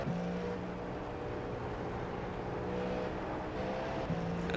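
Cadillac V-Series.R LMDh race car engine in the iRacing sim, a steady droning engine note with tonal harmonics running continuously at moderate level, briefly shifting near the end as the throttle is blipped, no talk.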